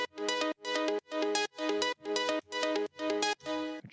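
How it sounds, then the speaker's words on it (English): A bright synth arpeggio from an EDM drop pulses in eight evenly spaced, punchy rhythmic stabs with rich harmonic tone, loud and up front, no voices. "And then I add this arpeggio,"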